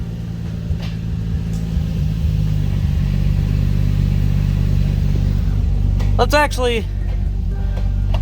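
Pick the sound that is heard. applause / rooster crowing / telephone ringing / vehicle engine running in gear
vehicle engine running in gear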